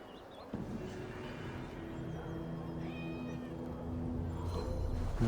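A cat meows several times aboard a Viking longship in the video game Assassin's Creed Valhalla, with a rising in-game ambient hum and music beneath it.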